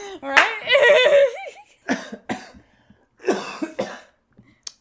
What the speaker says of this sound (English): That's a real cough.